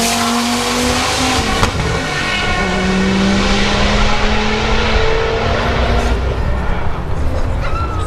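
A 1800 whp twin-turbo Dodge Viper ACR races in a roll race, a loud sustained engine roar with rising and falling tones, a sharp transient near the start and crowd noise underneath.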